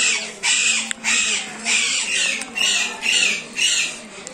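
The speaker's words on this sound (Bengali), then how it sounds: "এটা হচ্ছে জায়রা পাখি" A captive jayra bird in an aviary at Sreemangal gives a run of harsh, crow-like squawks, about seven or eight loud, close calls in a steady rhythm with short gaps between them, with no voices.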